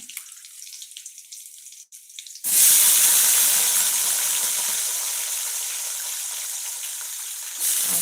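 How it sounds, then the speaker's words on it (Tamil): Potatoes are rinsed in water while cooking a potato fry: faint kitchen handling first, then a steady, loud rush of running tap water that continues to the end. "உருளைக்கிழங்கு நல்லா தண்ணி அலசிக்கணும் மண் எதுவும் இல்லாமல்"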